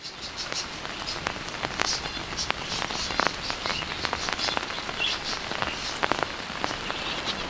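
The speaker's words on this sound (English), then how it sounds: "It finally rained, the first rain in over a month." Steady rain falls after a dry month of over thirty days, a constant close patter of drops with scattered sharper drips over it, and no voices.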